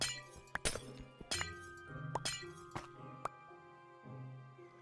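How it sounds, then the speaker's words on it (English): Glass blocks broken one after another in the game Minecraft, a run of sharp shattering clinks with ringing tails and short pauses between breaks. "if we pull out all of this glass"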